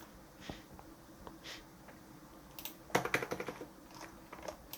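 Keyboard shortcuts being typed while working in Revit: a few soft isolated key taps, then a denser burst of quicker clicks near the middle and a couple of faint taps after, close and quiet with no voice.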